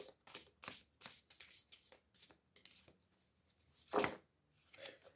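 Oracle cards being shuffled by hand, a quick series of crisp riffling and flicking bursts at close range, with one stronger slap near the end and no talking.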